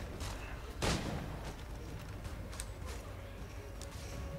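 A single sharp gunshot rings out early in Assassin's Creed 3, standing out against a steady bed of game ambience, with fainter clicks and mechanical noises afterward.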